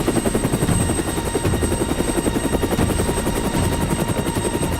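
Helicopter hovering during an airlift for a Lego animation, a dense steady rotor chop pulsing fast and loud with a constant high whine, no talk.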